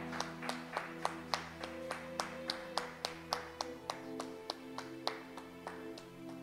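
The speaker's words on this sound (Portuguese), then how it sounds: "E um aplauso ao Senhor." A congregation at a church service clapping in a slow, even rhythm, each clap sharp and distinct, over a sustained background of organ or keyboard chords, fairly quiet and at a distance.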